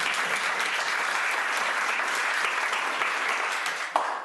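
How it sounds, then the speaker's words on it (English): A conference audience at a business festival gives a dense, steady round of applause for the event organizers, full and sustained for several seconds before starting to thin out at the end. "Let's give them a round of applause."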